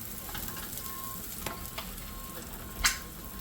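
An egg fries in a pan with a steady soft sizzle throughout, broken by a few light scrapes and a sharper clack near the end as it is turned over.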